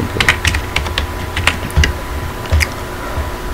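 Typing on a computer keyboard, a close run of irregular clicking keystrokes with a few louder taps, heard alone without talk.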